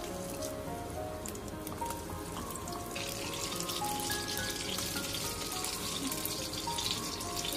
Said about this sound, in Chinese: 一面煎好之后再用铲子给它翻一面，把另一面也煎至定型煎香